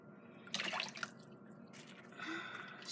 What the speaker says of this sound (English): So we're just ladling and pouring.